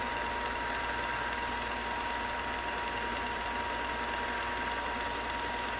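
A SKIL BB9504 belt and disc combination sander runs steadily on a workbench, a constant close mechanical hum and whir with a faint tonal whine and no pauses or voices.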